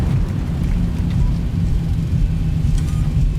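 Boeing 737-800 braking after landing in the X-Plane 11 flight simulator, a continuous loud low rumble and roar of rollout with hissy broadband noise throughout, no voices.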